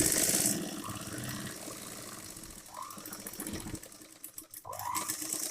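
A sewing machine stitches the seam of a chudithar pant, its motor whirring at the start and then fading into quieter handling noises with a few brief squeaks.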